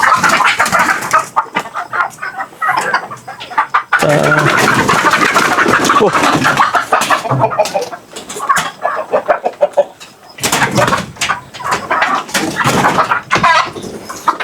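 Native chickens and Rhode Island fowl in a large coop cluck and call loudly at close range, a dense, continuous flock chatter with occasional louder squawks.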